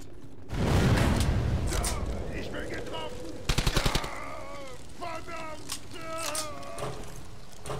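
Gunfire in the World War II shooter Brothers in Arms: Hell's Highway, a booming shot followed by a quick rattling burst, with game voices and shouting around it.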